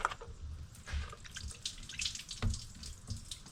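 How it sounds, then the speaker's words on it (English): Coolant draining from the engine of a 1999 Honda Civic during a thermostat replacement, a steady close splashing trickle of liquid with small drips and gurgles running throughout. "there is the rest of the coolant coming out"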